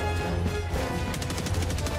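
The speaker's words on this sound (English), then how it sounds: "There's missiles being fired at us from behind." Missiles fire at players in Helldivers 2, heard as a fast run of sharp repeated bangs layered over a steady rumbling game background, dense and fairly loud.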